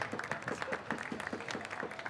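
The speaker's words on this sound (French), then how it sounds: "on peut encore applaudir Alexandre" An audience at a coffee brewing competition in Marseille gives a short round of applause for a competitor, a quick patter of claps at moderate loudness in a hall.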